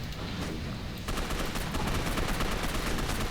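Gunfire in Gotham City Impostors comes as a dense, continuous stream of rapid shots that grows fuller after the first second, loud and close, with no talk over it.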